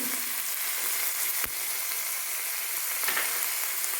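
Tomato pieces frying in a hot pan, a steady broadband sizzle with no talk, broken by a couple of brief stirring scrapes.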